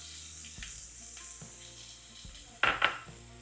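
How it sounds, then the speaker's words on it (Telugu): Chopped onion dropped into a hot pan with garlic and fresh curry leaves, giving a soft continuous sizzle, a few quiet stirring knocks and two louder bursts of frying near the end, with no voices. "ఇప్పుడు ఒక పెద్ద ఉల్లిపాయ కట్ చేసుకొని ఇందులో వేసేయండి"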